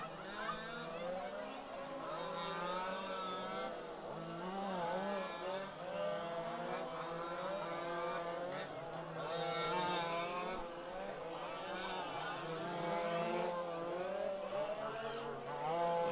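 Fifth-scale 4WD spec race cars in an RC main event sweep past down the front straight, their small engines buzzing and wavering in pitch at a moderate distance, with a race commentator talking over them.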